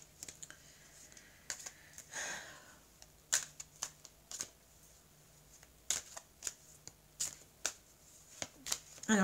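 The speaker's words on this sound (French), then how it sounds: "Alors, je vais mélanger les cartes." Oracle cards are shuffled close up and quietly, with a soft riffle followed by a series of crisp, irregular clicks and slaps as the cards are handled.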